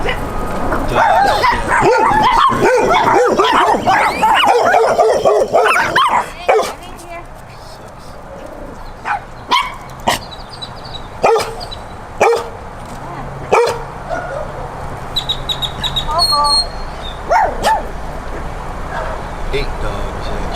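Several dogs and young puppies near a trailer bark, yip and whimper in a busy, loud burst, then scattered sharp barks and whines continue, with people talking throughout.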